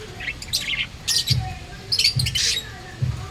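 A bird squawks and chirps in several sharp, raspy bursts, close and fairly loud, with short pauses between calls.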